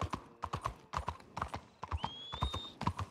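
Steady clip-clop of horse hooves in a quick rhythm, close by, with a brief high whistling tone partway through, from the video game Red Dead Redemption 2 Online.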